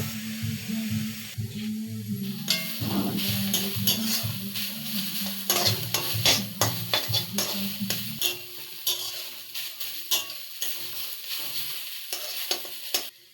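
Carrots being stirred and sautéed in ghee crackle softly while a spatula repeatedly scrapes and clacks against the pan in quick, uneven strokes; close by, no speech.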